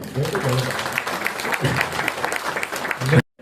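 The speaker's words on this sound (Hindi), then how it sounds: "तालियां होना चाहिए।" Audience applause at an Osho gathering at a farmhouse in Nagpur, a dense, steady wash of clapping lasting about three seconds before cutting off abruptly.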